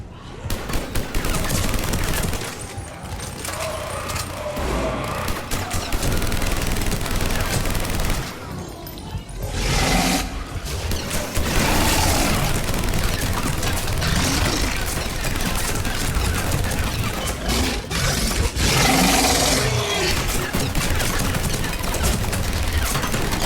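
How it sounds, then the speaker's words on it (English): Heavy gunfire rages in the Mass Effect 3 video game battle, dense rattling bursts of automatic weapons and booms going nearly nonstop and loud, with brief lulls, and faint voices mixed into the din. "Foxtrot and Bravo are taking heavy fire."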